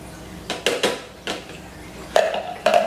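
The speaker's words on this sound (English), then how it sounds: "So you got to whisk it until it is smooth." Cheese sauce whisked in a pan, giving intermittent metallic clinks and scrapes of the whisk against the pan, close and moderately loud.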